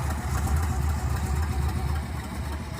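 Steady low rumble of a 1966 Pontiac LeMans four-door with its 326 V8 idling, a continuous close engine drone with no voices over it.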